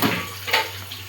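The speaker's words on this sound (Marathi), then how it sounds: "ते भरतायत पाणी" Water runs from a tap into a vessel in a home kitchen while egg curry cooks, a short steady rushing splash that stays close.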